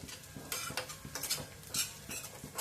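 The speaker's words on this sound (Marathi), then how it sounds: "याला खरपूस असं परतवायचं आहे" A spoon stirs and scrapes through green wheat-ear sheera roasting in a pan, making quick, close clinks and scrapes in an uneven rhythm over a faint sizzle.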